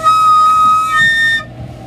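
A recorder played with the fingers not fully covering the holes holds a thin, steady whistly tone for over a second with an airy, unstable edge, close and clear, then stops abruptly.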